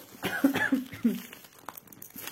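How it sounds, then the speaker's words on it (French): A short burst of two or three quiet coughs, fairly close, followed by faint rustling. "Lui, tousse pas, mais moi, je tousse."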